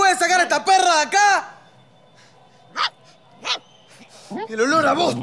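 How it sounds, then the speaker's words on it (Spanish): A female dog yips and whimpers in a house, giving two short sharp barks in the middle, with people speaking loudly before and after. "¿Alguien me puede sacar a esta perra de acá?"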